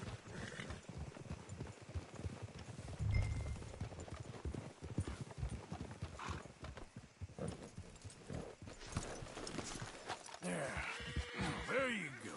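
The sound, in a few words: horses' hooves clip-clopping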